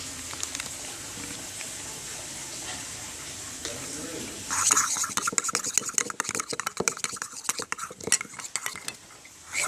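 A spoon stirs a homemade slime mixture with soap in a bowl, first softly, then as a run of quick scraping clicks and taps that grows busier toward the end.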